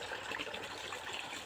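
Water pouring straight from a motor pump for bathing, a steady, soft, continuous rush with no break.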